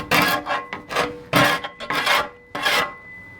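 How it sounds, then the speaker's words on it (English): Old Upol Raptor liner coating, keyed and primed but lifting along the edges, is scraped off by hand in loud, close rasping strokes, several separate scrapes with short pauses between them. "You can scrape it off really easily."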